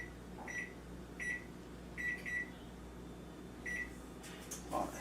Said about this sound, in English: And I'm going to set my timer for 18 minutes because I don't like no dry salmon.